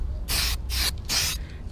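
Aerosol spray paint hissing onto a car grille, three loud, close bursts of spray, each lasting about a quarter second, with short pauses between them and no voices.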